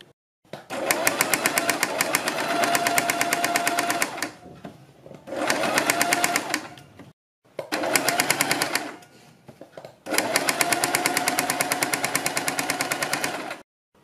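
Sewing machine stitching along the edge of doubled fabric for a neckline, running in four loud steady bursts of rapid needle chatter separated by short pauses.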